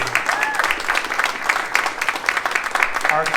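A crowd at a Transgender Day of Visibility flag raising outside Reading City Hall applauds local transgender heroes, with clapping and a few cheers continuing for several seconds.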